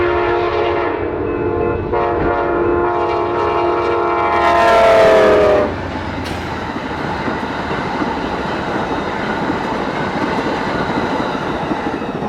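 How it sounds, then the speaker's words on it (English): Amtrak's California Zephyr passenger train bound for Chicago passes in Iowa, sounding a loud sustained horn chord for several seconds before the horn cuts off, leaving the steady rumble and clatter of rail cars rolling by close. "Next, we'll see Amtrak's California Zephyr bound for Chicago."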